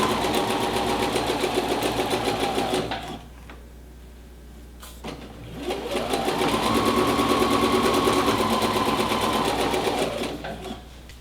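Sewing machine back stitching along a set-in sleeve seam at normal stitch length, a loud continuous motor hum in two runs separated by a short pause with light clicks, close up.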